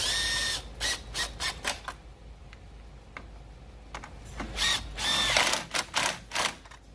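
A ratchet tightens a car battery hold-down on a Mazda, making clusters of quick close clicks and mechanical rattles in short bursts, with quieter pauses in between.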